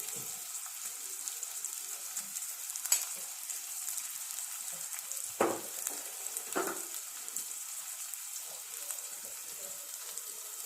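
Onions fry in a pan, heard as a faint, steady high hiss broken by a few short clinks.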